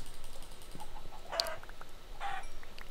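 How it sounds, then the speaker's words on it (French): Chicken clucking from a video game farm, two short clucking bursts at moderate level over a steady background hum, no speech. "Trois poulets ici."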